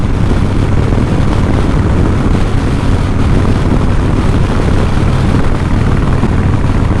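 A 2007 Harley-Davidson Night Train, recently fitted with upgraded forks, roars loudly and steadily while being ridden, with heavy wind buffeting across the microphone and no speech.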